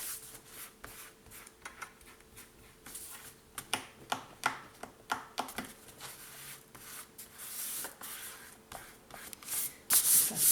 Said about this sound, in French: efface la colle